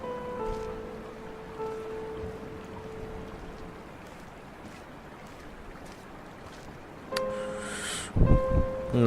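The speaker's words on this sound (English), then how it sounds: "Nice little water stream there." A small water stream in the game Dear Esther trickles and rushes as a steady wash of noise, with soft sustained music tones over it and a louder swell near the end.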